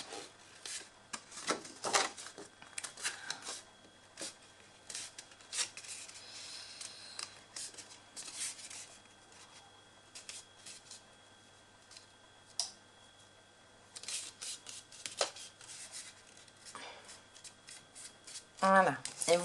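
Paper being folded and creased by hand to make a notebook: soft, close rubbing and crinkling strokes in scattered bursts, quiet overall, with someone speaking French in between.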